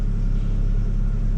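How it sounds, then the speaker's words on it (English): A faulty exhaust on a third-generation SUV runs steadily with a deep, constant low rumble that holds an even level throughout, with no one talking. "Her exhaust still sounds like crap."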